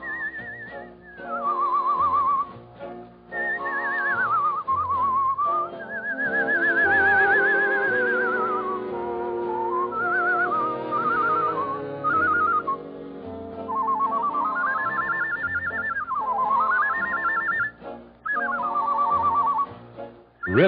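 A man whistles imitations of birdsong on an old-time NBC radio broadcast, with long trilling warbles and swooping glides, clear and close over soft orchestral accompaniment, and no talking.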